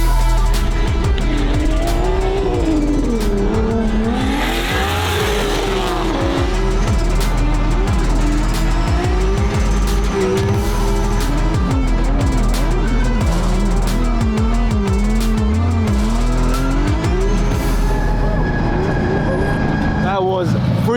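Lamborghini on a racetrack, its engine roaring continuously at high load with shifting pitch as it accelerates, with tire squeal mixed in and a voice talking over it throughout.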